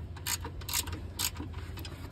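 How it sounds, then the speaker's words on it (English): A ratchet with a 10 mm socket turns a grille bolt on a Toyota RAV4, making three quick clicking bursts at a close, moderate level with no talk. "Still need 10 millimeter socket."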